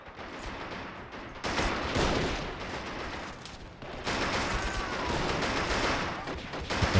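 Anti-aircraft guns blaze in a 1v1 ladder strategy war game match, a dense continuous fusillade of rapid gunfire that thickens midway and runs steadily to the end, with distant bursts layered underneath.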